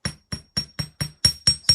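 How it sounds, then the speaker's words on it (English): The edges of a metal bracelet bead piece are hammered for a flush finish: eight sharp, evenly spaced metallic taps ring out close and loud in a steady rhythm, with no voice over them. "you can actually hammer it a little bit, just the edges, to give a clean and flush look"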